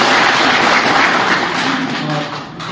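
An audience at a college fresher party claps for the event coordinators, a loud, dense burst of applause close by that holds steady and then tapers slightly near the end.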